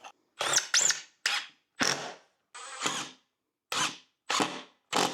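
Power drill driving screws into a cheap DIY wooden desk, heard as eight short, loud whirring bursts separated by brief pauses, with no talking.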